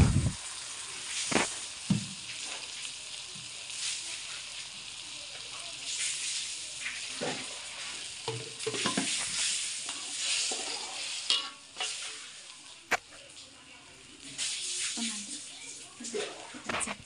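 Shallots, leaves and a ground spice paste frying and being stirred in a wok for a kecombrang sambal, with a steady close sizzle broken by repeated scraping stirs and a few spoken words over it.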